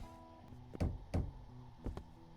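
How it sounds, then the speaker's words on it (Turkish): Three hollow knocks strike a door in the indie horror game Digging Hours, two close together and a third after a pause, over faint background music. "Kapıyı çaldık."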